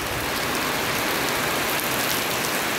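Heavy rain pours down during a thunderstorm, a loud, dense and continuous hiss of downpour filling the whole stretch with no break and no voices.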